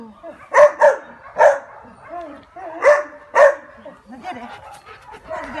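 A quick, lively dog barks and yips in sharp bursts, about five loud barks close by with short gaps between them, followed by softer whimpering yips.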